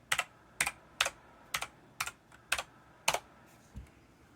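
A password being typed on a computer keyboard: seven or eight distinct, fairly crisp keystrokes at an uneven pace, close and quiet in a still room.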